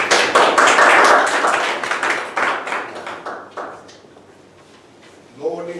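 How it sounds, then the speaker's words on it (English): An audience at a meeting claps in a burst of applause that starts full and dense, thins into scattered claps and fades out, with a voice starting at the end. "give him a big round of applause"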